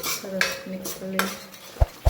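Spoon scraping and clinking against a pot while stirring dal makhani with spices, a few short metallic scrapes followed by two sharp knocks at the end.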